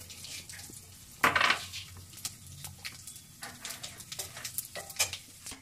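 Whole spices and cumin seeds sizzle in hot oil for a mutton curry, with a sharp crackling burst early on and then softer popping and stirring scrapes in the pan.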